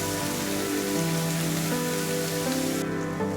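Ground onion, ginger and garlic paste frying in hot oil in a pan for fish curry, giving a steady, dense sizzle that runs unbroken throughout at a close, moderate level.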